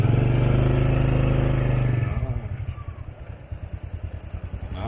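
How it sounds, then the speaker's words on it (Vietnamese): Motorcycle riding through a Vietnamese town, its engine droning loud and close, first as a steady hum, then a rhythmic chugging putter as it moves along. "Hôm nay chúng ta chạy một vòng ở đây bằng xe máy nha"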